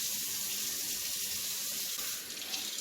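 Tap water pours steadily into a sink while tomatoes are rinsed for homemade salsa, a continuous close hiss and splash with no talking.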